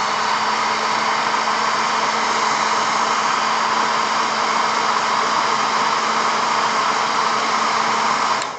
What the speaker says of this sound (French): un coup de sèche-cheveux, on va accélérer le séchage